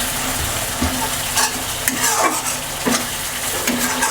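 A spice paste loosened with a little water fries in a pan for a katla fish and arum curry. Close scraping stirs come every second or so over a constant sizzle.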